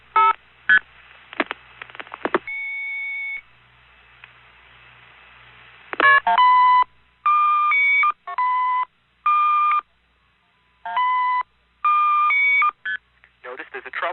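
Telephone dialing tones on an NX1 test board for long-distance intercept, a run of short, loud tone bursts in regular bursts with gaps, preceded by a few clicks and a held tone, no talk over them.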